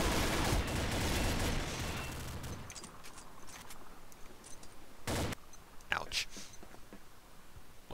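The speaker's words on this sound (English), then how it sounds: "He got shot by the M99" Gunfire from an M99 sniper rifle in the Combat Arms shooter game comes as a few brief, sharp reports over a quiet, faint background after an earlier stretch of louder noise.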